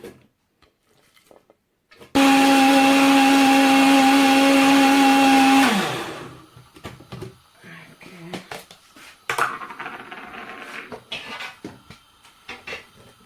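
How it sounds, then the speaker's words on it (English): A blender whirs loudly for a few seconds blending peppers, garlic and onion, then winds down and stops, followed by kitchen clatter and a voice talking. "So I'm going to blend these ingredients together."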